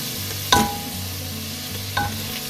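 Spices stir-fried in a pan for daal chicken, a soft continuous sizzle with two sharp scrapes of a spatula against the pan, no voices.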